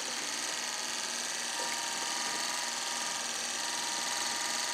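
Car wiper motor spinning on a bench power supply at about 2 amps, giving a steady, even mechanical whir with a faint buzzing tone that holds constant throughout, close up and heard alone without talk.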